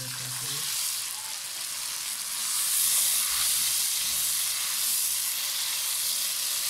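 Garlic ginger paste sizzles in a hot pan for chicken karahi, a steady close frying hiss that swells slightly partway through, with no talking.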